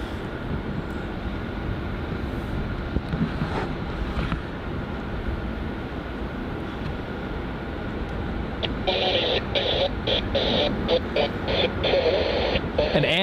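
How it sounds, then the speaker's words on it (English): A Jetstar Airbus A320-200 arriving at Melbourne Airport in heavy rain, a loud continuous jet roar blended with rain and wind rumble, swelling slightly toward the end. "Coming in now, we've got Jetstar flight JQ939 coming in from Cairns."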